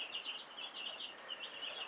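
Young meat chickens, four days old, chirp continuously in a dense, overlapping chorus of high peeps, steady and fairly close with no talking.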